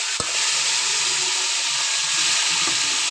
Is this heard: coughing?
no